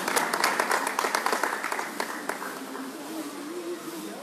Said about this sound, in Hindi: जोरदार तालियों से अभिवादन करें